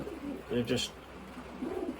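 Young racing pigeons coo softly in a loft, a couple of low, rolling coos rising briefly above quiet background noise.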